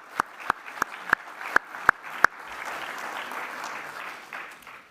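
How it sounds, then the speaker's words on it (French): A convention audience in a hall starts with a handful of sharp, evenly spaced single claps, then a soft, sustained wash of applause swells and runs steadily to the end. "Je pense que nous pouvons à nouveau t'applaudir."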